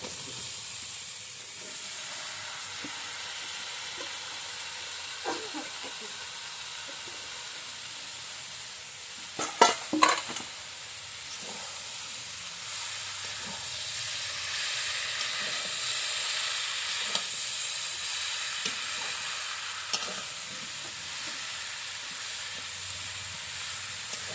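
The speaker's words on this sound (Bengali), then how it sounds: "এবার মশলা থেকে তেল ছেড়ে গেছে, এবার আমি লাউ কুচিতে দিয়ে দেবো।" Chopped bottle gourd fries in spiced oil, giving a steady, close hiss. A spoon stirs it, with a short burst of clattering scrapes near the middle. No one speaks.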